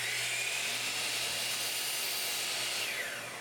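A miter saw whining through a small piece of wood held down by a stick, a loud, steady high-pitched motor and blade drone that tapers slightly at the very end.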